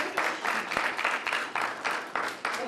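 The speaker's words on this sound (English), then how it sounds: "Let's give our panelists a round of applause." Steady applause from an audience for a panel at a university scholars' information day, dense clapping sustained throughout with slight surges, fairly close and even in loudness.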